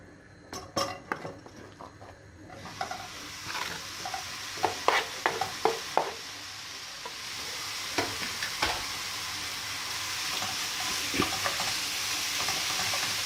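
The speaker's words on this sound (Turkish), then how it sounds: "Şimdi tencereme atacağım tavukları." Chicken cubes hit a hot pot over high heat and start sizzling, a steady hiss building after a few metallic clinks and scrapes of a utensil stirring.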